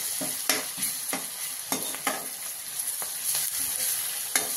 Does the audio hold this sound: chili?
yes